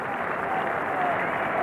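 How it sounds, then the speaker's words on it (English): A Lord's cricket crowd applauds Graham Gooch during an England versus India Test in 1986, with a broad, steady wash of distant clapping under a commentator's voice. "there'll be lots of applause for Graham Gooch"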